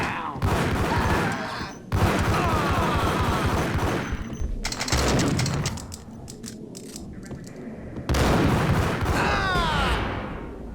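Heavy gunfire from a video game shootout in Max Payne, loud bursts of rapid shots rattling in clusters across the clip, with brief gaps between volleys and some game voices mixed in.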